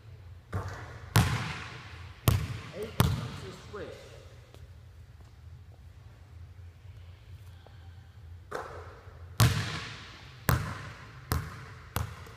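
Basketball shots in a gym: a ball repeatedly hits the rim or net and bounces off the floor in sharp, loud thumps, about eight impacts in irregular bursts with quieter gaps between.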